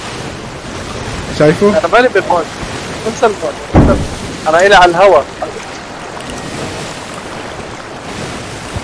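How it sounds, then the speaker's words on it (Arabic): Ocean waves in the Sea of Thieves video game wash and rumble steadily in the background with wind, while several players talk loudly over the surf. "الموج عم يمشي بعكس الريح"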